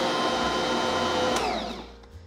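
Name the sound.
mixing sliced green onions into mashed potatoes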